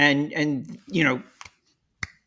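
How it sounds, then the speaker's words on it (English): Two faint, sharp finger snaps follow a short stretch of talking, spaced apart and dry, like attempted snaps rather than crisp ones. "That was me trying to snap my fingers."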